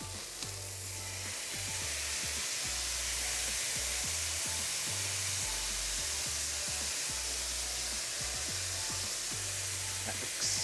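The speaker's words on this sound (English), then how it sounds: "Brett's steaming that up." Chicken fajitas sizzle and steam on a Blackstone flat-top griddle, a loud continuous hiss with bursts of spitting and crackle, along with low clattering thumps from cooking on the hot surface.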